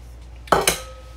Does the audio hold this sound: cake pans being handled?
yes